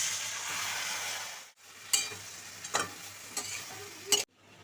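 Marinated taro stolons hit a pan of frying onions with cumin, giving a steady loud sizzle, broken by a sharp cut and a few clinks of a spoon stirring against the pan.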